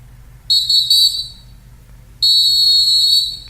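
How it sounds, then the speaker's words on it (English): Two sustained, shrill whistle blasts, the first around a second long with a brief break, the second longer and steady, sounding loud and close. "Okay, whistle."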